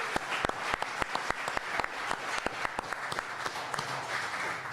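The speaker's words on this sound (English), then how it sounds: "Big round of applause." Audience applause at a Toronto Argonauts anniversary press conference hosted by the Argonaut Rowing Club: steady, moderately loud clapping from a modest crowd with distinct individual claps standing out, no talking over it.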